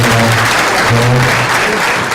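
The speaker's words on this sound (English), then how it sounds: "why don't you give the panel a round of applause?" An audience applauds a panel at the end of a discussion on homes for land lease communities: loud, sustained clapping from a room full of people, close and steady, mixed with a low hum and faint voices.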